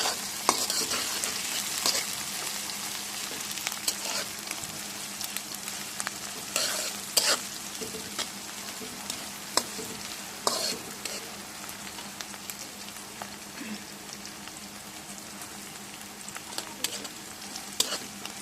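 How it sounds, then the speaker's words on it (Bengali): Chopped dried chillies, onion and garlic sizzle steadily in hot oil while being stirred, with scattered scraping clicks of the spatula over a continuous close frying hiss. "এগুলো মরিচ, পেঁয়াজ, রসুন সব লাল লাল করে ভেজে নেব"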